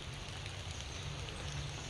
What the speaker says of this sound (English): It's pouring down, raining